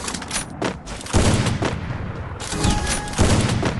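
Gunfire in the Free Fire video game during a one-on-one fight: loud bursts of rapid automatic shots in several clusters with short pauses between them, no talk.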